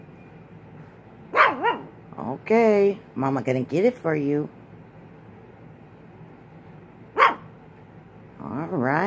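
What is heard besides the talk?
dog barking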